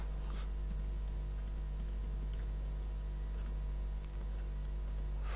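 Code being typed on a computer keyboard: soft, scattered keystrokes tap irregularly over a steady low electrical hum, quiet and close.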